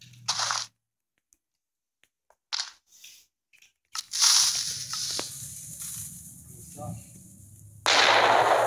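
Several sharp, crunchy TNT cannon explosion bursts in Minecraft go off, separated by short silences, followed by a longer rumbling stretch and one more loud blast.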